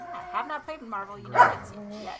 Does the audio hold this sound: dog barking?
yes